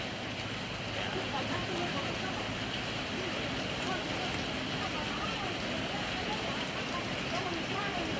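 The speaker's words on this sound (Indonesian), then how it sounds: "seluruh wilayah Kabupaten Bulukumba pada pagi hari ini terdampak dengan cuaca hujan" Steady, even hiss of heavy rain falling across the Bulukumba area in the morning, a broad continuous wash of sound at moderate distance with no distinct drops standing out.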